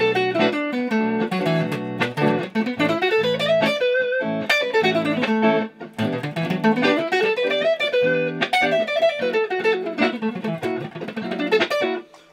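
An electric guitar with a distorted tone runs quickly up and down a pentatonic scale in continuous streams of notes, played alone.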